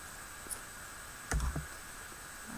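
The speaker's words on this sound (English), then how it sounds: "and cut your yarn." Scissors snip through crochet yarn in a quick double click near the middle, quiet and close against a faint steady hiss.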